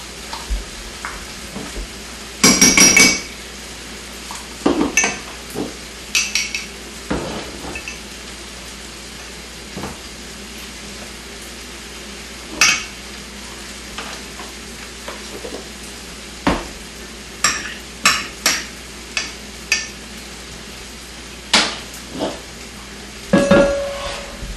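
A spoon stirs a sour cream mixture in a pan, making sparse, scattered scrapes and light clinks against the pan over a faint background hiss.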